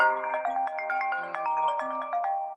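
A mobile phone rings during an online class, its melodic electronic ringtone playing a bright repeating tune of tones for a few seconds, loud and close, with no talking, then cutting off abruptly.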